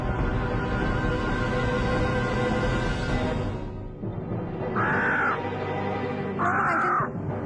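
Crow giving two loud harsh caws near the end, after a dense rumbling background noise cuts off.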